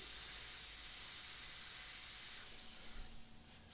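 Airbrush spraying white paint through AirShot skull templates, a steady airy hiss that runs without a break and fades slightly toward the end.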